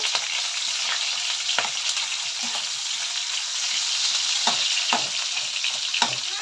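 Chopped onions fry in a pan with a steady, loud hiss and sizzle, broken by a few scattered stirring knocks and scrapes, close up with no voices.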